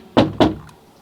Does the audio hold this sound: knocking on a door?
yes